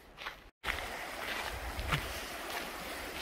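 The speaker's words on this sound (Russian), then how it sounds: "Там слышно ручей." A winter mountain creek runs through snow at around minus two degrees, giving a steady broadband rush of flowing water with a brief dropout near the start.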